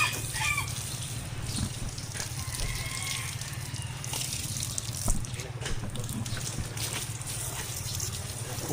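Plain running water is sprayed to wash something, with no soap, giving a faint, steady hiss over a low constant hum.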